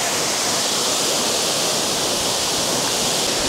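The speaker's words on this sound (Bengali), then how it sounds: "এই হলো ডুকা ফলসের ভিউ" Duka Falls near Kalimpong roars as a continuous, loud, broadband rush of falling water, steady and close, with no voices.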